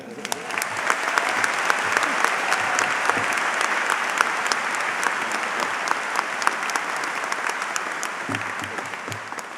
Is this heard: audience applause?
yes